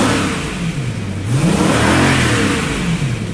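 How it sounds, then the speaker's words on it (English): A 2015 BMW M3/M4 engine revs hard, rising and falling twice in loud, close bursts over a steady engine roar with no talk. "Let's give it a bit of a rev."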